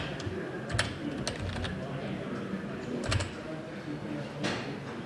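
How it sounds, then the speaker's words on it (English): Someone types on a mechanical keyboard at a card game event, a quick run of close clacking keystrokes in irregular bursts over a low background murmur. "I love my mechanical keyboard that goes clickety clackety click"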